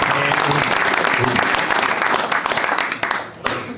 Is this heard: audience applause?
yes